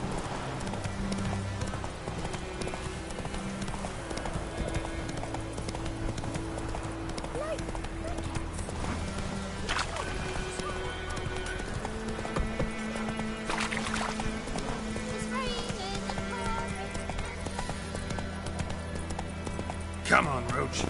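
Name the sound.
horse Roach's hoofbeats, from the video game Witcher 3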